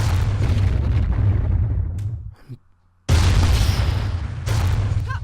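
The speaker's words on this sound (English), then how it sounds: "Rounds that explode at a specific point in midair." Exploding rounds burst in midair during a fight in the game Iji, producing heavy, sustained booming blasts that break off into a brief near-silence before another loud burst erupts.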